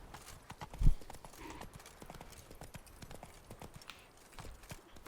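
Horse hooves in The Witcher 3 patter in quick, light beats under a game soundscape, fairly faint and close, with one louder thump near the start.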